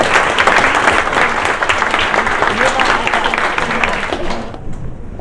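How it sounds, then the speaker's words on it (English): Sustained, loud applause from an audience at a junior hackathon show-and-tell in Manchester, steady clapping with crowd noise throughout before it cuts off abruptly near the end. "So have a round of applause,"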